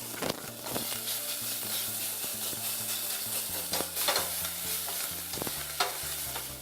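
Crushed garlic sautéing in a little butter gives a steady sizzle and crackle, with several louder stirring scrapes and clinks of a utensil against the pan; no voices.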